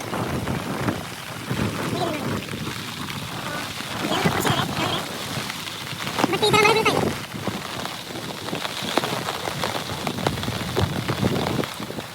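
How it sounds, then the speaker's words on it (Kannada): Heavy rain pours onto an open rally ground in Madikeri, a dense steady hiss of downpour that swells briefly midway, with voices faintly present underneath. "ಅಂದರೆ ತುಂಬ ಮಳೆ ಬೀಳ್ತಾ ಇದೆ ನೀವು ಈ ಗ್ರೌಂಡ್ ನೋಡ್ಬೋದು"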